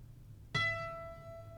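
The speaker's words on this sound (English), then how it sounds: "I plucked a guitar string, but not the guitar string that you would pluck to play." A single guitar string plucked above the nut with a sharp attack, ringing on as a thin, high, slightly metallic tone that slowly fades.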